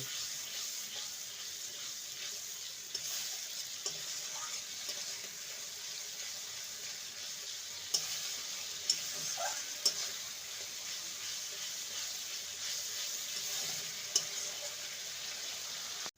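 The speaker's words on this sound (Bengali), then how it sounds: "টমেটো বাটা দিয়ে ভালো করে আবারও কষিয়ে নেব" Masala with poppy seeds and tomato paste fries in a pan while being stirred for a vegetarian kakrol curry, a soft continuous sizzle broken by light scraping clicks of the spoon, with no talk.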